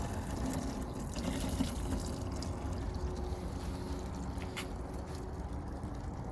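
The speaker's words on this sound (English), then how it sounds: "And drain the water out." Water draining from a Zeny RV washing machine through its drainage hose, a steady, continuous trickling gush at moderate level with no voices over it.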